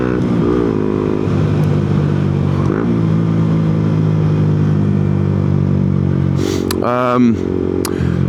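Motorcycles ride close by on the road, heard from a Yamaha MT-125: a steady engine drone with occasional revving sweeps and one sharp rising rev near the end, with someone talking over it.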